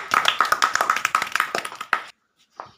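A short burst of clapping from a small group at a village ludo game, about two seconds of brisk overlapping claps, close and fairly loud, ending abruptly with a faint trailing noise.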